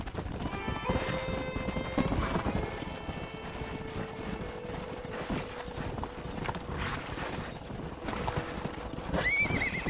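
Horse in the Red Dead Redemption video game galloping with steady clip-clop hoofbeats and a clear whinny near the start, over busy ambient game sounds; a faint voice may be present.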